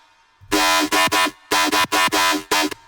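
Double FM bass synth patch built in Serum, with a touch of resonance and a raised cutoff, plays loud growling, buzzing stabs in a choppy rhythm of about eight hits, alone with no talking.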